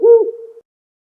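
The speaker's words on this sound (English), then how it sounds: "the owl awakens perched high in the trees" A single loud, close owl hoot from a bird perched high in the trees, one low hollow note that trails off and fades within a second.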